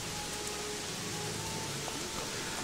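Steady rain in the video game Götterdämmerung, a constant soft hiss of falling drops with faint game tones beneath, continuous and unchanging throughout.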